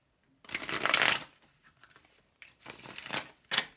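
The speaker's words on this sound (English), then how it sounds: "One last shuffle, let's see." Tarot cards are shuffled close to the microphone in two rustling, riffling bursts separated by a short pause, ending with a quick final flick.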